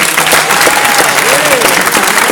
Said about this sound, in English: they're going to clap their hands really hard